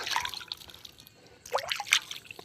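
Water is poured from a carried container onto garden soil where fennel seeds were sown, giving soft splashing and trickling that comes in two bursts separated by a quieter pause.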